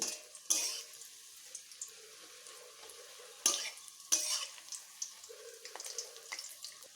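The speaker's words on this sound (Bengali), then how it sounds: "এবার আমি এগুলো বড়া আকারে ভেজে নিচ্ছি" Water spinach and mung dal fritters fry in hot oil in a kadai, a soft steady sizzle broken by a few sharp bursts and scattered utensil clicks, close and moderately quiet with no talking.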